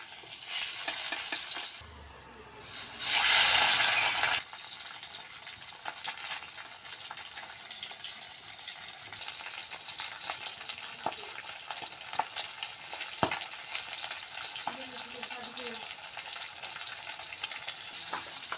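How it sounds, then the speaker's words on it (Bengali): Pieces of rohu fish frying in hot oil give a steady close crackling sizzle throughout, with a louder burst of spattering and stirring early on. "আমার মাছ ভাজা হয়ে গিয়েছে"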